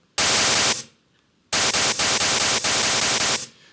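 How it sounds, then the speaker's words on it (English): Harsh broadband white noise from random values written into memory, played as two loud bursts: a short one, a gap of near silence, then a longer burst with slight flutters before it cuts off. "writing random data creates noise"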